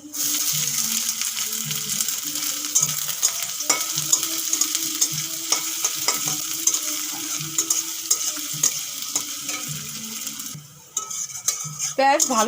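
Chopped onions fry with garlic in a pan for a pipul shak and potato dish, giving a steady loud sizzle with frequent stirring scrapes and clinks of a spatula against the pan throughout.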